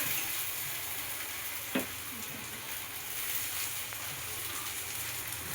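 Cut potatoes fry in a pan for a spicy yellow potato bhaji, giving a steady, even sizzle throughout with a single brief clink partway through and no talking.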